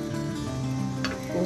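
Appam batter sizzles on a hot nonstick pan in a steady, close frying hiss that lasts the whole short stretch.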